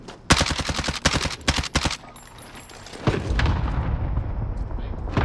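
Loud bursts of automatic gunfire from a video game firefight, then a heavy airstrike boom with a rumbling blast and crackling debris that lingers, voices faintly under the noise.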